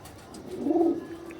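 A rare-breed pigeon with red-flecked plumage and raw-turmeric yellow eyes gives a single low, rolling coo that swells and fades over about a second, close by, with no talk.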